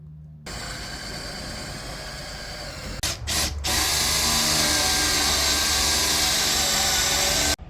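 Power drill boring a hole through a backboard under the eaves while a security camera is mounted: a loud steady whine that breaks off briefly and then runs again at higher intensity until it cuts out.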